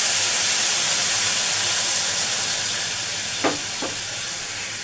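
Water added to a pan of fried spices for jujube chutney, producing a loud, broad, steady sizzle and steam hiss that slowly fades, with two brief knocks of a spoon near the end.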